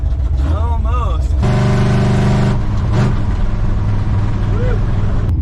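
Car engine after a major horsepower overhaul, revving hard in loud surges with a steady rumbling idle between, while people talk and whoop nearby.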